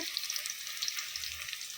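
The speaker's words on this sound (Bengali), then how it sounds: "ক্যাপসিকাম, পেঁয়াজ, লঙ্কা ভাজা হয়ে গেছে" Capsicum, onion and chili fry in a pan with a soft, even hiss and a few faint crackles, heard quietly and alone for a brief moment.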